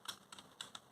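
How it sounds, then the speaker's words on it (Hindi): Fingers tapping QWERT and POIUY drill keys on a computer keyboard, four or five crisp clicks in quick uneven rhythm, close and clear with no talk. "तो हम टाइप कर रहे हैं QWERT POIUY"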